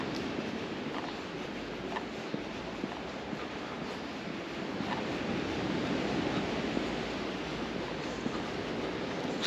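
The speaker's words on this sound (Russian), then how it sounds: "Не-не, какие-то волны еще есть. Все-таки слышно отсюда" Sea waves break on the shore at Lazarevskoye near Sochi, a continuous, fairly distant surf roar that swells a little in the second half, with light wind noise.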